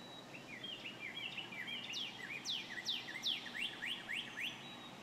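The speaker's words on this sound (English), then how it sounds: "it's like birds chirping" Birds chirp and tweet in quick, rising sweeps, layered as a calm texture sample over a beat, with the calls growing denser and brighter toward the middle before easing off.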